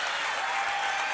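A studio audience claps in a dense, steady wash of applause, loud and close, with no voices over it.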